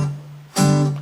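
A single guitar chord strummed once after a lone sustained note, the strum cut short by muting just after it sounds, played alone.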